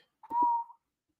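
A single short whistled note, steady and fairly quiet, lasting about half a second in otherwise silent surroundings.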